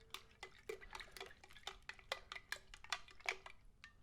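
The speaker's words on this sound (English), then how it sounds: "Whack that in there, give it another stir" A spoon stirs a glass jar holding a tank-mix jar test of agricultural spray products, giving faint, quick clinks and taps in an irregular rhythm, close up with no talk.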